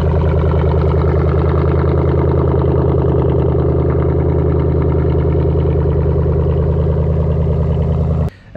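Chevrolet C5 Corvette V8 idling, a loud deep lumpy rumble with steady rhythmic pulsing, recorded up close and running nearly unbroken before cutting off at the end, with no talk.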